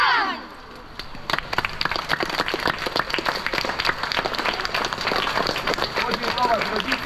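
A group of young water polo players and coaches applaud together to thank their parents, a burst of dense, loud clapping rising after a shout and continuing steadily, with voices calling in the mix.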